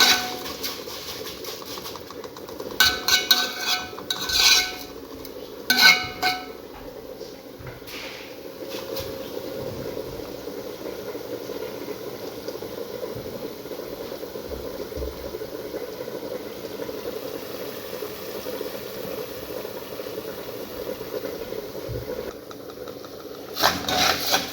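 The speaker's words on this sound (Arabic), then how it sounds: "على بال ما الشعريه كده تاخد لون معانا تتحمر" Vermicelli frying in oil in a pan: a steady, even sizzle runs the whole length, broken early by a few louder clinks and stirring knocks, with no talking.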